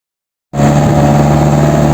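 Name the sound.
chartered truck engine running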